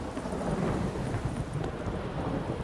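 Steady, dense rainfall with a low rumble of thunder in The Witcher 3 Wild Hunt, continuous and fairly loud throughout with no speech.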